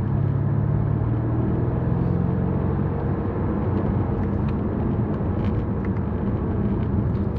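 A BMW M8 Gran Coupe Competition drives up the Stelvio Pass in the Italian Alps, a continuous low engine drone and road rumble heard from inside the cabin, steady and loud without talk.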